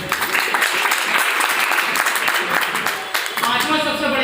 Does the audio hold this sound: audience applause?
yes